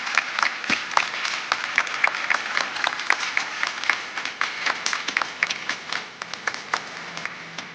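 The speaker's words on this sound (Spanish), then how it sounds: "Fuerte el aplauso para Pedro" An audience at a sports congress applauds for Pedro, with crisp individual claps forming an uneven rhythm that thins out and grows sparser toward the end.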